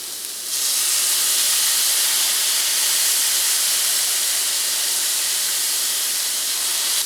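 Low-sodium gluten-free soy sauce poured into a hot turkey skillet gives a loud, steady sizzling hiss that bursts in after a quiet moment and holds nearly unchanged to the end.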